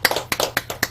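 A small group claps for a temple association president at a Buddhist temple dharma service, with about five quick, close, crisp hand claps in a brief burst.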